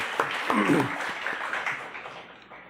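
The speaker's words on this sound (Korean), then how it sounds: "다시 한번 잘 신앙생활하시도록 큰 박수로 환영하겠습니다" Church congregation at a Sunday service giving a round of welcoming applause, a dense clatter of many hands that swells early and then gradually fades, with a voice briefly heard over it.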